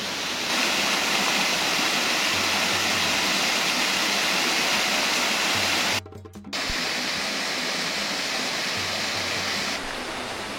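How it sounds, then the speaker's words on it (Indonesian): A steady, loud roar of a forest waterfall fills the clip, broad and constant, with a brief dip in the rush midway before it resumes. "Di sini ada air terjun yang cantik sekali."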